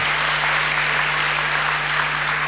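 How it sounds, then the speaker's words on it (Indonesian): Sustained applause from a church congregation during a sermon, a thick steady roar of many hands clapping at even loudness, with a constant low hum beneath. "beri tepuk tangan"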